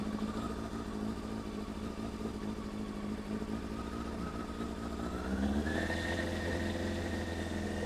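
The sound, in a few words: motorcycle engine revving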